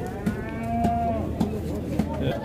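Cattle at a busy livestock bazaar in Jalal-Abad, with a bull or cow giving a loud, drawn-out moo near the start. Other faint lows follow against a steady murmur of the market crowd.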